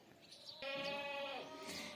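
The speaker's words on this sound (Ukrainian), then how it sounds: "а там кози подають голоси свої, чимось незадоволені" Goats bleat from a short way off in a summer garden, one long wavering bleat standing out over quieter background calls, with no one speaking.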